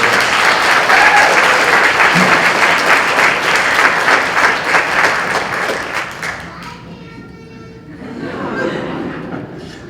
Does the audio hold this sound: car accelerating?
no